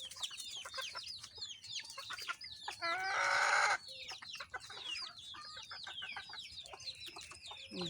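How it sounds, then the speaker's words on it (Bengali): Chickens and roosters cluck and call in a farmyard in the afternoon, with scattered bursts close by and a louder, harsher squawking flurry in the middle. "এই যে দেখেন দেখেন মুরগি মোরগ মোরগ আসছে"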